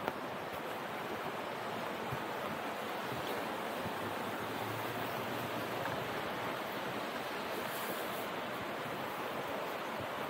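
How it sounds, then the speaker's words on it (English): Floodwater rushes loudly and continuously down a river at Warburton, a broad steady roar of a fast-flowing torrent with no voices over it. "That's a huge amount of water that's come down."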